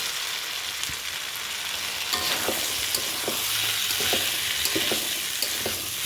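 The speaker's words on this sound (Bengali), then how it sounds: "এখন ছোলাটা দিয়ে একটু আমি কষিয়ে নেব।" Chickpeas frying in tomato masala in a pan for ghugni with potatoes, a steady sizzle under repeated scraping stir strokes from a spoon, close and continuous with no talk.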